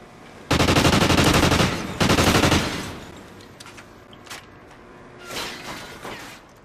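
AK rifle fire in a video game team deathmatch, two loud close bursts of rapid automatic shots back to back, then quieter scattered shots and mechanical clatter further off.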